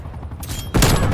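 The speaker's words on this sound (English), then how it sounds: "am I going to have to use SMG?" Submachine-gun fire in Call of Duty Cold War, a quiet rattle that swells into a loud burst of rapid close shots lasting about a second.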